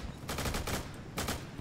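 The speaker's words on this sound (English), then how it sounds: "I hear gunfire." Gunfire in a video game war match, a few rapid bursts of shots sounding fairly distant and muffled, with short gaps between volleys and no talk over them.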